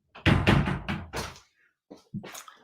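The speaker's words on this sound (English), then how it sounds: "Let me shut the door again." A door is pushed shut with a rapid cluster of loud knocking thuds, followed after a short pause by two softer knocks as it settles closed, close and indoors.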